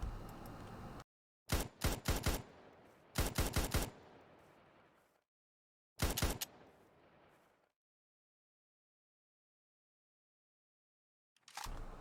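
A night-vision-scoped rifle in a Modern Warfare mod fires in rapid automatic bursts: several loud, crisp volleys separated by silent gaps, with echoing tails fading out after each burst.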